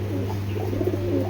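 Pigeons coo softly in a loft, low gentle calls repeating under a steady background hum, fairly faint and close.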